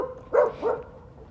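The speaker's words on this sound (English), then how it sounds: "I think the dog knows I'm podcasting." Two quick, moderately close barks from a dog in a quiet room at night, followed by stillness.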